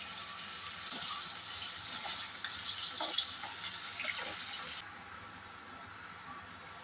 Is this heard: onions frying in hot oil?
yes